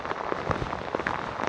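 Heavy monsoon rain on a Sahyadri mountain trek route, a steady dense hiss of falling water with scattered louder drops and splashes throughout, close and continuous, with no voices.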